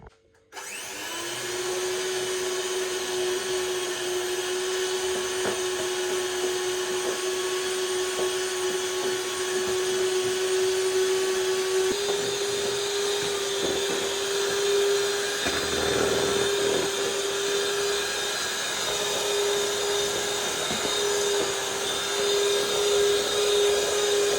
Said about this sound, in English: And then let's use our mixer.